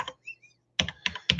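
Close, crisp computer keyboard keystrokes come in a few sharp clicks separated by brief pauses, with faint tonal noises between them and no talking.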